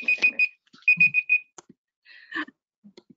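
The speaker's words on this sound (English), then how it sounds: "Oops, that was my timer." A timer alarm going off to signal that baking bread is done, giving short bursts of high electronic beeps in a quick repeating pattern with brief gaps, fairly near and with no talking over it.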